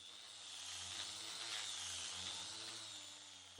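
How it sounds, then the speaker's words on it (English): A continuous high whirring drone of an angle grinder sanding 2x6 dimensional lumber, steady and fairly faint, with slight shifts in pitch and no talking. "we started off by sanding with our angle grinder"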